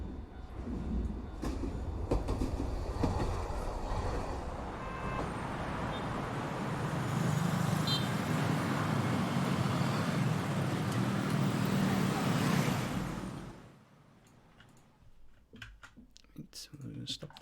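Dense, steady traffic rumble from FMOD scatterer sound effects, with rolling vehicle and rail-like noise for about thirteen seconds, then dropping abruptly to a quiet background with faint clicks.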